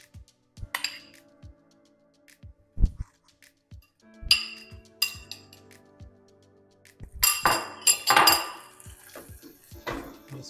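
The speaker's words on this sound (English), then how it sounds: "It may look like the butter and the sugar is separating, and you just keep whisking it" Butter and sugar caramel being whisked in a pan off low heat, heard as intermittent metallic clinks and scrapes of whisk against pan, with sharp rattling bursts and quiet gaps between them.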